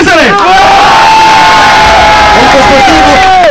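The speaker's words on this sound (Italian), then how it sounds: "Attenzione, un applauso per Cesare." Crowd on a radio show cheering loudly during a burping contest, with sustained shouts and whoops near the mic and very little clapping.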